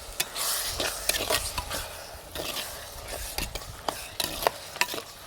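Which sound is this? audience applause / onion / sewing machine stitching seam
onion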